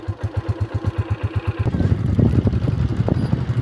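A motorcycle on a short ride to school, a steady pulsing engine putt at first, then a louder rougher rumble as it pulls away and picks up speed, close by.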